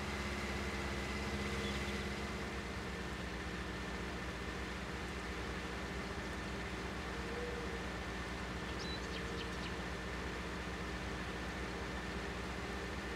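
A tractor engine in Farming Simulator 19 drones on at a steady, unbroken pitch, a low continuous rumble with no voices over it.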